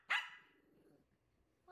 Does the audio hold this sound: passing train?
no